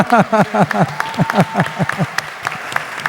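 Audience applause at a Brazilian Consciousness Day event: quick clustered claps patter steadily under a loud, close voice that keeps talking throughout.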